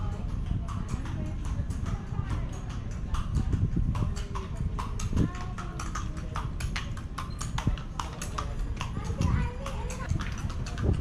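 Hooves of a horse pulling a kalesa carriage clip-clop steadily along the historic cobbled Calle Crisologo in Vigan, Ilocos Sur, Philippines, under constant street chatter and children's voices.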